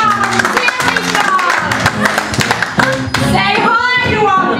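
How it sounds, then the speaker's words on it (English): Studio audience claps for a game show contestant: a busy burst of hand clapping runs throughout, mixed with voices and a bright tonal backing. "Let's give a round of applause."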